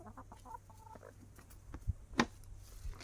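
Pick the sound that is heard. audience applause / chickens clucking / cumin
chickens clucking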